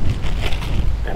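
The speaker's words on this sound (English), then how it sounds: "that wind is kicking up" Strong wind gusts buffet the microphone outdoors at night beside the water while fishing for flathead catfish, producing a loud, continuous rumbling rush.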